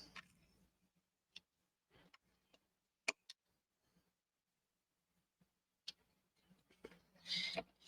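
Slightly oversized scissors cut paper for a handmade grunge-style brag book, making quiet, sparse snips and clicks at irregular intervals in a still room, with a fuller rustling cut near the end.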